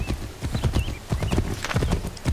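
Horse hooves gallop across the prairie in Assassin's Creed III, a rapid rhythmic clip-clop close up and loud, with a brief whinny and game ambience.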